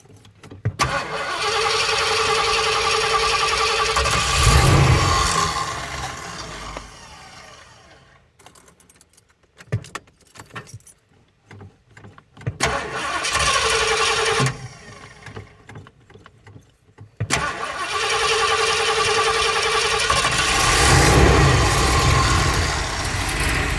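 A motorhome engine cranks and catches three times, each burst building into a loud, close running roar before cutting out, with quieter gaps of clatter and silence between attempts.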